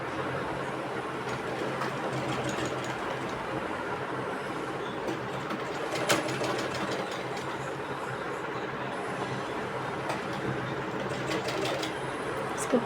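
A sewing machine stitches a trouser pocket in one continuous, steady run lasting the whole stretch, with faint clicks and small bumps in the mechanical drone.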